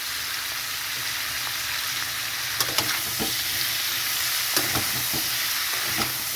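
Green chillies frying with a shrimp, pumpkin, potato and drumstick curry in a pan, giving a steady loud sizzle throughout, with a few faint stirring clicks and no voices.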